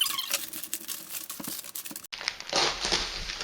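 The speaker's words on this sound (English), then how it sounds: "Okay, the air is going in." A vacuum-compressed outdoor chair cushion package is torn open close up, with crinkling plastic and tearing, then a steady hiss of air rushing into the foam.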